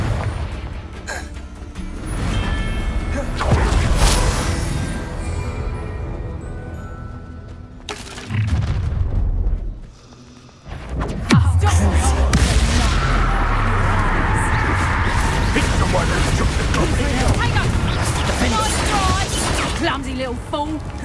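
Confringo blast spells erupt in Hogwarts Legacy combat at a battle arena, loud booming bursts recurring through the clip over dense game sound, with a brief drop to near quiet midway; voices speak throughout.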